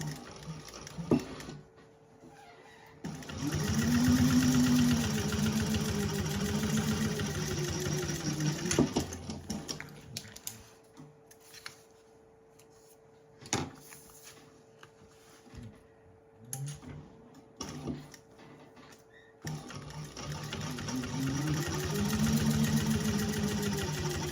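A sewing machine top stitches along the seam of a fabric candy bag in steady motorized runs, with a rapid needle patter that pauses and restarts, then resumes toward the end. Nobody talks.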